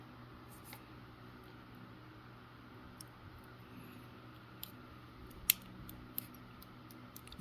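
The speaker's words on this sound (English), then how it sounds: "just trim up the butt end" Small scissors trim the butt end of material while a Magog Smelt trout fly is tied, a few faint, sharp snips scattered over quiet background hum, one click standing out clearly.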